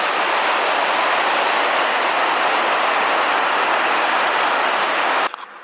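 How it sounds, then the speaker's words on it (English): Heavy rain pours down outdoors in a steady, dense hiss that continues unbroken for several seconds before cutting off abruptly near the end. "but look at this rain."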